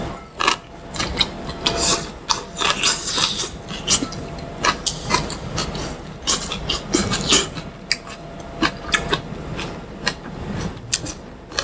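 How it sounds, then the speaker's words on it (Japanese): Crisp, crunchy chewing of a grilled vegetable skewer at an izakaya, heard close as a run of irregular bites and crackles with no talking over them. "このシャキシャキ感の音が違うでしょ"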